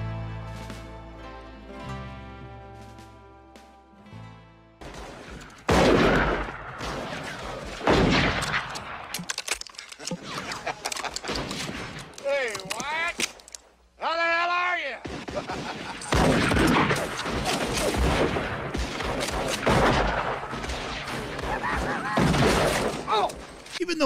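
Gun battle sound effects recreating the Mescal Springs fight between Wyatt Earp and Curly Bill, with a musical passage at first, then loud, dense volleys of gunfire and sharp bursts that keep crackling almost continuously.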